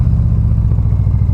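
A Victory Magnum motorcycle pulls in third gear at low RPM, its big engine giving a deep, steady, lumpy throb with rhythmic low pulses, loud and close, with no talking.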